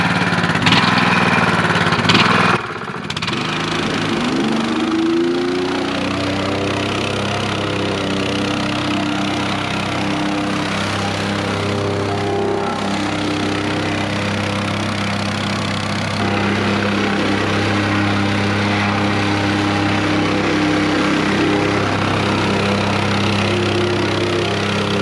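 Honda-engined plate compactor on a paver base, a loud mid-pitched engine drone with steady vibration, briefly cutting out near the start and then running continuously.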